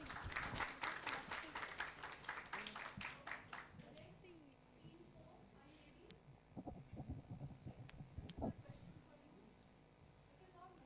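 An audience at an intercollegiate quiz competition claps in a burst of dense applause for several seconds. The clapping fades, and a speaker continues talking over the hall's ambience.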